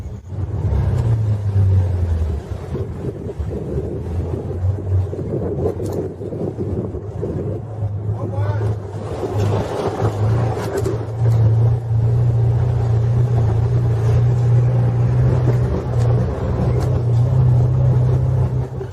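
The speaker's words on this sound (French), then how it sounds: "Nous sommes obligés de prendre les voitures de fortune comme celle-ci pour s'y rendre." A makeshift car travels a rough rural road toward Moya, its engine droning low and steady throughout, with wind buffeting the microphone and rattling from the vehicle.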